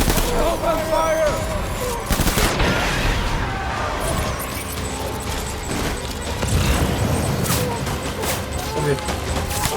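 Heavy gunfire in combat: dense repeated shots and crackling bursts throughout, with occasional louder blasts and voices shouting underneath.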